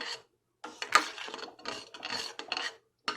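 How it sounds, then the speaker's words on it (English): Spoon stirring cornmeal porridge with whole milk in a pot: close, rasping scrapes in short bursts, separated by brief pauses. "Add a little whole milk to it. Stirring it up."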